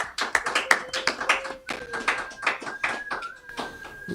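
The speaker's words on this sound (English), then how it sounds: "another nice round of applause for Artemis and Vince" A studio audience at the Golden Road TV show gives a round of applause for Artemis and Vince, a steady run of dense, even clapping. Faint voices and tones show through the clapping.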